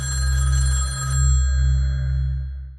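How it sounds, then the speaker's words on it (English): A telephone rings in a film scene, a loud, close, continuous bell that holds steady and then fades, with no talk over it. "The phone's already ringing before she's even got in her apartment. It's already ringing. You can hear it ringing."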